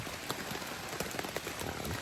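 Steady heavy rain pours down on a wet campsite along the Appalachian Trail, a dense continuous patter with scattered louder drops and no voices.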